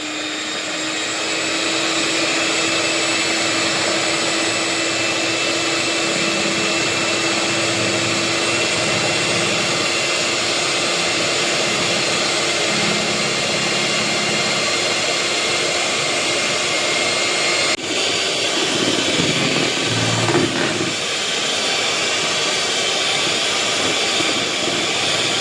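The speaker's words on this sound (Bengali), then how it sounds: "আমি হ্যান্ড বিটারটাকে হিট করে নেব।" An electric hand beater whirs loudly and continuously for the full stretch while mixing batter for a homemade chocolate cake, with its pitch and tone shifting briefly near the end.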